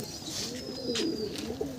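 Madrasi pigeons coo softly in a low, wavering purr, close by, with a few faint higher calls and light background noise around them.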